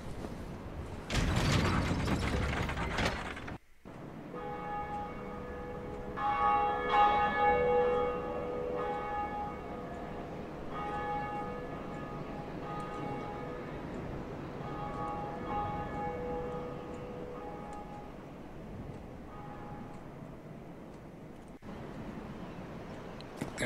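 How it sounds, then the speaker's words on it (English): A church bell rings repeatedly in a Dark Souls bell tower, resonant tolls sustaining and overlapping after a short burst of louder noise at the start, the ringing fading in and out over twenty seconds with no talk. "we ring the bell."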